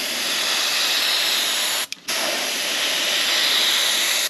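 Paint spraying onto tungsten fishing jigs makes a continuous close airbrush-like hiss that stops briefly for a moment before carrying on steadily.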